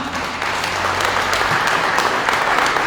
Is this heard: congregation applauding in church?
yes